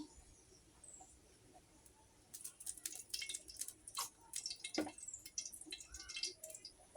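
Cooking oil going into a kadai makes soft, close crackling and dripping spatters that start quietly and then pick up into an irregular patter of small pops.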